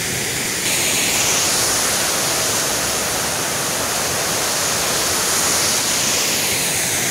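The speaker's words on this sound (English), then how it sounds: "water fountain here, coming up to Botanical Gardens." A water fountain splashes steadily on St Kilda Road near the Botanical Gardens in Melbourne, a loud, continuous rushing spray with no talking.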